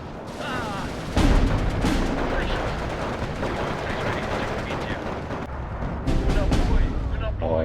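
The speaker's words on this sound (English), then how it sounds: "Oh, that's a nasty bombing strike, just killed all of that infantry" Bombers striking infantry in the World War II strategy game Steel Division 2, a rolling barrage of blasts and rattling gunfire that swells near the start and again toward the end, dense and continuous, with a voice talking over it.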